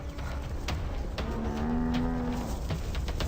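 An African buffalo cow lows in one long, drawn-out call from a herd rallying against attacking lionesses, over a steady background of movement and scattered knocks.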